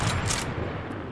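A gunshot in Fortnite Chapter 3, heard as a steady burst of game gunfire followed by a sharp, louder crack right at the end, with no voices.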